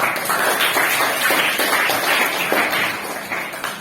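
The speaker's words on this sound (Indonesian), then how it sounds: "Beri tepuk tangan." A group of students in a classroom session claps steadily for several seconds, a continuous, somewhat muffled patter of many hands at a moderate level with no talk.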